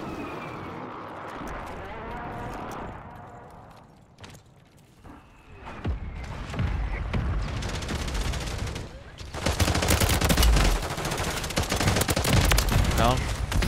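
Video-game combat with dense bursts of gunfire and booming mortar explosions that grow louder and more continuous toward the end, with a voice talking over the first part.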